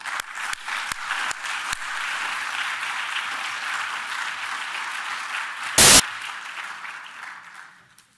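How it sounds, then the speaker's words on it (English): A plenary-session audience at a Barcelona annual meeting breaks into loud, sustained applause to welcome a speaker onto the stage, a dense wash of clapping that starts with a few sharp claps and tapers off at the end. "give him a great applause"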